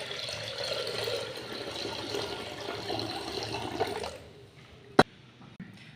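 Water pours steadily into curd in a clay pot to make spiced buttermilk, a continuous splashing fill that stops, followed by a sharp clink and a softer knock.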